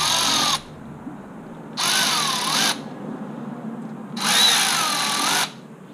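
Three short bursts of a whirring power tool snug bolts on the intake manifold of a 2003–2004 Chevy SSR, each run lasting under a second, with quieter workshop pauses in between.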